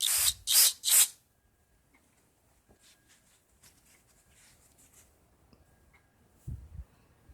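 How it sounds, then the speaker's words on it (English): Parts cleaner is sprayed onto a part from the engine of a 2003 Craftsman M110 riding mower in three quick, loud hissing bursts, followed by quiet handling and tapping noises. "Spray that off with some parts cleaner and dry it off."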